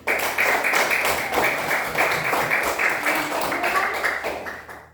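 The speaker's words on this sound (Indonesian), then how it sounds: "tepuk tangan untuk kelompok 1" A group claps steadily for several seconds, the applause fairly close and even, tapering off at the end.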